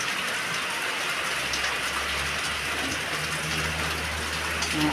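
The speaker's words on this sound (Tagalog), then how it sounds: "Ulan na naman." Steady rain falls on surfaces nearby, a constant soft hiss with a low rumble underneath and no voices.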